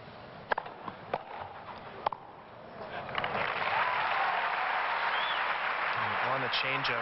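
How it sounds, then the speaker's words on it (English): A Wimbledon tennis crowd rises into a sustained, swelling standing ovation for Barry Cowan during his 2001 second-round match against Pete Sampras, following a few isolated claps and brief commentary. "On the changeover, standing ovation from the crowd for Barry Cowan"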